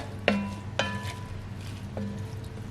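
A spoon stirs a pot of vegetable beef soup, giving three distinct knocks against the pot with brief metallic ringing, over a steady low kitchen hum.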